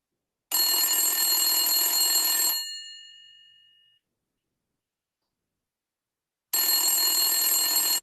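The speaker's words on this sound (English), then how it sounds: "You receive a phone call." A telephone rings in two long electronic bursts separated by silence, the first trailing off in a fading tone; loud and close with no talking.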